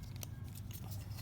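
An electrical plug snaps into the adapter of a 9-Drive throttle response controller on a Chrysler 300S, giving one brief, faint click near the start over a steady low hum.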